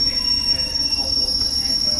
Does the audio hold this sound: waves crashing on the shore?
no